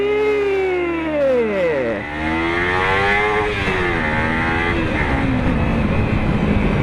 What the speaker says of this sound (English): key to a hill start is revving the bike to show off